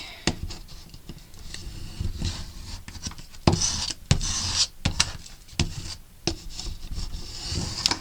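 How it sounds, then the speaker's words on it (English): Paper being burnished on a handmade mini album, a run of dry rubbing and rasping strokes close by with short sharp scrapes between them, no voices. "it looks like I missed burnishing it right there"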